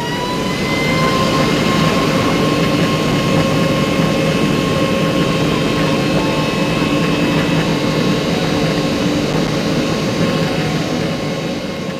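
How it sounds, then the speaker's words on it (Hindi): Jet airliner engines roar loudly and steadily during takeoff, a dense rumbling wash with a high whine on top that holds throughout without pause. "इंजन की बढ़ती हुई आवाज़ के साथ जहाज़ तेज़ दौड़ना शुरू कर देगा"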